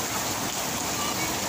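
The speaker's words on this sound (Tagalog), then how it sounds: "Kalakas na ulan." Heavy rain pours steadily in a rural provincial setting, a dense continuous hiss with no breaks, fairly loud and even throughout.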